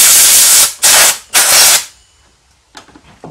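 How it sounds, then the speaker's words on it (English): Three loud bursts of compressed air hissing in quick succession onto a dirty lawnmower carburetor, each about half a second, followed by quiet and some faint handling noise. "I'm just going to spray a little bit of compressor around this."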